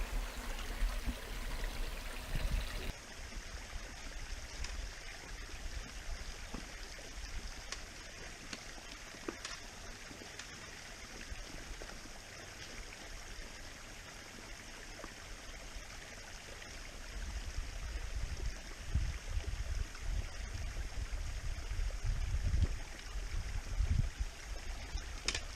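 A small creek trickles over stone in a desert canyon on a day hike in Big Bend National Park, a steady close babble with low gurgles that swells toward the end, and no voices.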